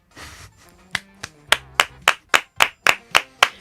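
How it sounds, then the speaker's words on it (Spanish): A handful of sharp, separate claps in a TV studio, slow and evenly spaced after a brief murmur, close and crisp like one or two people clapping rather than a full audience. "Un aplauso."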